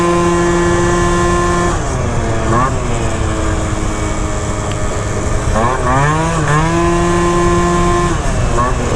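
A Phantom F12 scooter with a 70cc engine build and a tuned variator pulley revs loud and close. Its buzzing pitch swoops up and down repeatedly with rev blips, running continuously with no speech.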